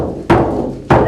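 A Native American ceremonial drum, struck in a slow traditional rhythm: two loud, booming beats about 0.6 seconds apart, each ringing on over a resonant low sustain, close and alone with no voices.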